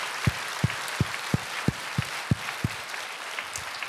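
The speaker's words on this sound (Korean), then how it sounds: "감동이 되신 박수로 하나님께 감사하시길 바랍니다" Steady applause from a church congregation, a dense wash of clapping with a few distinct low thumps recurring at regular intervals.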